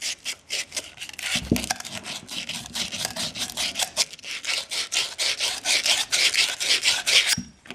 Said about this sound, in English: clean the end of the pipe with sandpaper